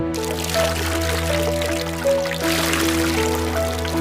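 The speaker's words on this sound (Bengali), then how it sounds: "এবার আমরা ভালো করে জল দিয়ে চিকেনটাকে ধুয়ে নিব" Water pouring and splashing over raw chicken pieces being washed for an outdoor picnic meal; steady running-water wash with a constant tonal hum underneath, no talk.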